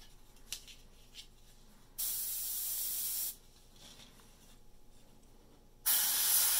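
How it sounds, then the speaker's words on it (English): An airbrush sprays base coats of paint onto a 1/48 Eduard Tempest model cockpit in two distinct bursts of close, steady hiss, with faint handling clicks between them. "the airbrush is ready to start the base coats"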